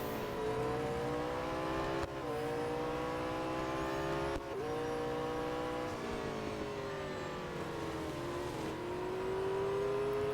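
A race car engine in the Real Racing 3 video game drones loudly and without a break, its pitch climbing through each gear and dropping sharply at every shift.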